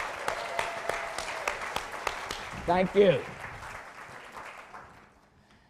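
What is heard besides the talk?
audience applause for new staff members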